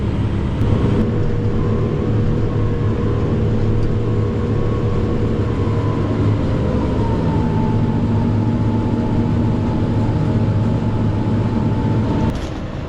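A heavy tractor engine drones steadily and loud for the whole stretch while pulling a field chopper, a low mechanical rumble with a faint higher whine, ending abruptly.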